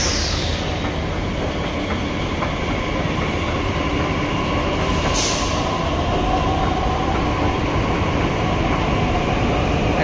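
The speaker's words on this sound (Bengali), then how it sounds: "একটা গাড়ি বেরিয়ে গেল" A Delhi Metro train pulls out of Qutub Minar station with a loud, continuous rumble and hum of rolling carriages, close by and filling the whole stretch, with no talking.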